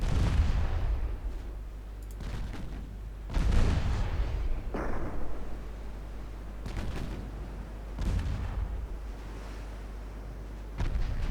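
Naval gun turrets aboard warships fire in the game Ultimate Admiral Dreadnoughts, heavy booming salvos spaced several seconds apart over a low, steady rumble, with no talk.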